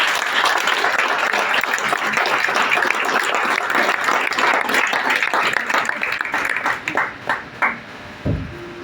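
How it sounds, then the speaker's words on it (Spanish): A church congregation bursts into sustained, dense applause during a Bible study, loud and steady, then thins into a few scattered claps at the end before a low voice comes in. "Dar un aplauso a Dios por eso."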